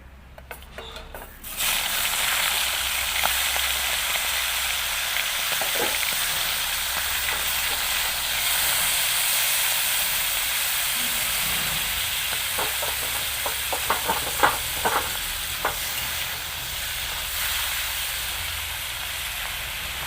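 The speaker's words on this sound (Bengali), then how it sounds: "কড়াইতে আর একটু তেল দিয়ে বাকি মাছগুলোকেও ভেজে নেব।" Prawns frying in fresh oil in a kadai wok make a steady, hissing sizzle that starts abruptly and runs throughout, with scattered small clicks of stirring.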